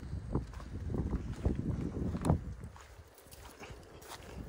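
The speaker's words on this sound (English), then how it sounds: "You can hear the wind." Wind gusting outdoors beside a creek, a steady broadband rush that swells and eases across the moment, with a few faint knocks and rustles mixed in and no voices.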